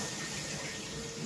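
Water splashes steadily into a kadai on a lit gas stove, where sugar is already in the pan for watermelon-rind tutti frutti, a close, continuous rushing pour with no one talking.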